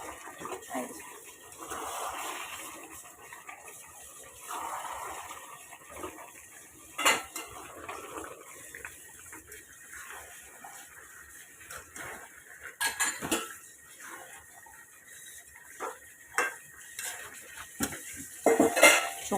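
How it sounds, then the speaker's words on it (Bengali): Meat and potatoes with their skins on being stirred in a pan, with a metal spoon scraping and clinking against the pan in irregular bursts, near and fairly quiet, with no talk. "আজকে চোকলা সমেত আলু দিয়ে হচ্ছে মাংস কষা।"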